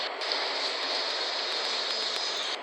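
A Konstal tram in a Roblox game passes close by as a loud, continuous, even rushing rattle. It holds steady for under three seconds, with no voices present.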